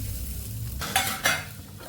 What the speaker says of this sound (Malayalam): പഴം ഒന്ന് കുക്കാകുന്നോടം വരെ ഇളക്കി കൊടുക്കാം.